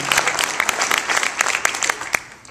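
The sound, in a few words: audience round of applause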